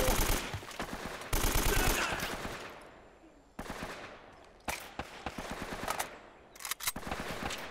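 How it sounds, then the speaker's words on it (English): Bursts of rapid gunfire in the video game Uncharted 3, loud and close, in several volleys separated by brief lulls, with sharp single shots near the end. "Why does there have to be so many gunshots?"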